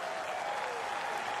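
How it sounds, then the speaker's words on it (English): A Test cricket crowd at Christchurch applauds a century by Brendon McCullum in New Zealand versus Australia, dense steady clapping from a large stadium audience with a commentator's voice over it. "The crowd stands."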